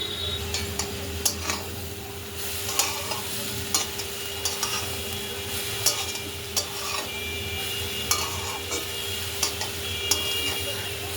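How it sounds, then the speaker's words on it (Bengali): Cooked rice with vegetables being stirred in a pan: regular scraping and clinking of a spatula against the pan over a low, steady frying sizzle, fairly close and moderately loud. "ভাতটা অ্যাড করে একটু নেড়ে চেড়ে নেব"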